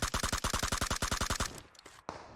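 Rapid automatic gunfire from a PUBG match rattles in a fast, evenly spaced burst of about fifteen loud shots, then breaks off into a short tail of scattered clicks and one last sharp report.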